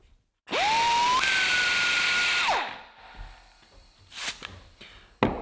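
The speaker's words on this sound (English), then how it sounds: "we're going to test the old die grinder" A DeWALT die grinder spins up with a rising whine, holds a loud, high, steady scream for about two seconds, then winds down, followed by a few faint clatters.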